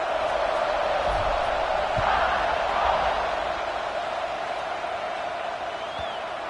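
Stadium crowd noise from the NCAA 26 college football video game, a steady dense roar of many voices filling the space for the whole stretch, swelling slightly midway before kickoff and staying constant in the background.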